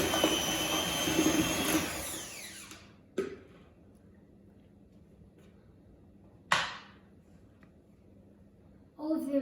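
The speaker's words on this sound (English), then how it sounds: "beat it a little bit faster so that it gets a nice creamy consistency" Electric hand mixer beating butter and sugar for a banana cake batter, a steady loud whir that cuts out after a few seconds, followed by quiet gaps and short bursts as it starts and stops again.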